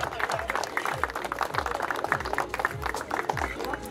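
A crowd claps at an outdoor motocross podium ceremony, with dense continuous applause at medium distance and a rhythmic thumping beat from music playing underneath.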